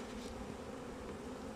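A dense mass of honeybees hums in a steady, close drone as they are shaken from a hive frame during a varroa mite check.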